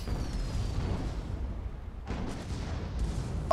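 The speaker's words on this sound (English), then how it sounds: "you get explosions" Explosions in the video game Guns of Icarus, a rumbling low boom rolling on, then a second sharp blast midway, heavy and near.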